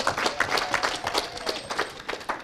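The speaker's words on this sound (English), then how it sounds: "I think that deserves a bigger round of applause." Applause from a seated audience at a university building launch ceremony, a steady patter of many hands clapping at moderate volume for a couple of seconds.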